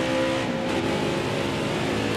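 A race truck's engine roars steadily in the NASCAR Heat 4 truck playoffs at Canadian Tire, a loud, continuous drone with no break and no talk over it.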